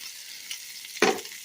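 Bacon frying in a pan, a steady close hiss of sizzling fat that suddenly flares into a loud, crackling burst before settling back down, with no voices.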